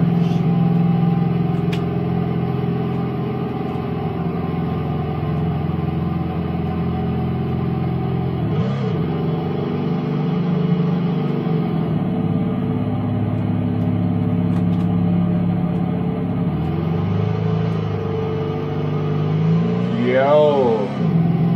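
A Dodge Challenger drives along with a steady low engine rumble throughout, swelling briefly as it revs, heard from inside over continuous road noise.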